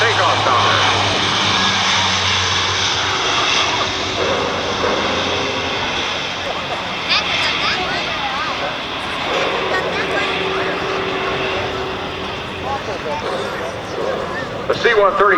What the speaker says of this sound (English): This is the latest version, the J model. Look at this takeoff tower.